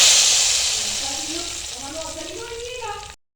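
Hot oil sizzling as ginger tadka hits a pot of mixed dal, a bright loud hiss at first that gradually settles and fades over a few seconds before cutting off.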